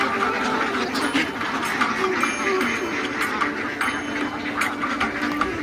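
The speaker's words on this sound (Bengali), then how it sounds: "হাঁসগুলো ভিতরে ঢুকতেছে।" A big flock of ducks at a poultry farm, returning home in late afternoon from the river, keeps up a dense, continuous quacking close by, with a voice talking over it.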